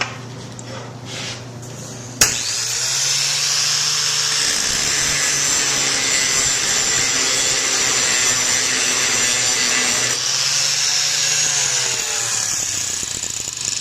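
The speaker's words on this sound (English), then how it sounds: "So now I'm going to grind on this high chrome material that you can see here." A grinding stone bites into high chrome wear-resistant material with a loud, harsh, continuous whine that starts abruptly after a quiet moment, holds steady for several seconds and then eases down.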